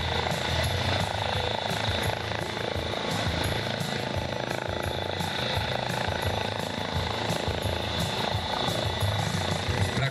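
Rescue helicopter at the NATO Days air show in Mošnov moving away after a winching demonstration, a steady, loud broadband rotor roar filling the whole stretch with little change in level.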